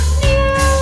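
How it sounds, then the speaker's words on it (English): A scared, hungry stray kitten gives one drawn-out, loud, close meow that fills the short moment. "That kitten touched and moved me with its meow."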